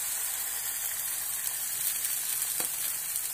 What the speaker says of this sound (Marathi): यात आता आपल्याला ही अंडी घालून द्यायची आहेत